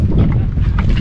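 Loud, low rumbling buffets of wind battering the microphone on a mackerel fishing trip, a continuous roaring wash with no other sounds coming through.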